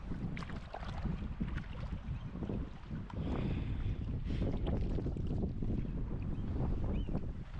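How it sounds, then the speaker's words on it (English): Strong gusting wind at Lake Drevviken roars and buffets the microphone in a steady, loud wash, with rumbling low-end bursts and no talk. "The wind is crazy indeed."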